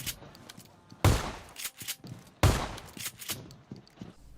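Gunfire from a shotgun and a Kar98 rifle in the mobile battle game PUBG Mobile: two heavy, sharp shots about a second and a half apart, with fainter clicks and shuffling between them.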